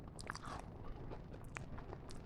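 Crisp, crunchy bites and chewing of a pink wafer close to the ear, with short brittle crackles over a low, steady background hum.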